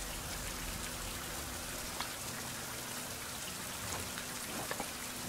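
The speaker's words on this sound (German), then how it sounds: "Jetzt regnet es noch einmal." Steady rain falls in a farming survival video game, a dense, even hiss of drops on surfaces close around, with a few faint louder patters and no talking.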